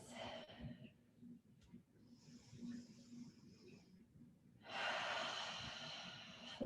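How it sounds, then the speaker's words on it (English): Slow ujjayi breathing during a yoga flow, a soft oceanic hiss through the throat: one long exhale, a quieter pause, then a louder sustained breath, close and gentle with faint background murmur. "Ujjayi breathing."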